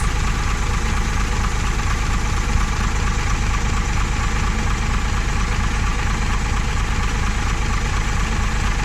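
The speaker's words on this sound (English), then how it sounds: "Powered by the busman's favourite, the much-loved Gardner 6LXB engine" A Gardner 6LXB diesel bus engine in a Foden bus idles steadily and close, a continuous low rumbling knock with no pauses or speech.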